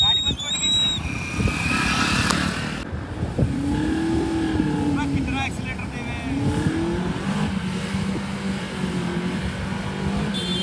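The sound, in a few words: Mahindra Thar engine revving while stuck off-road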